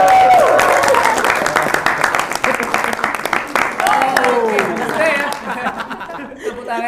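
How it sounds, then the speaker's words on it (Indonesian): A crowd applauds after a student council (OSIM) group is introduced at a podcast-style gathering, dense clapping mixed with chatter and some laughter, thinning out and trailing off toward the end. "Tepuk tangannya cukup ya."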